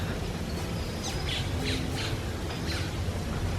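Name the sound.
bird calling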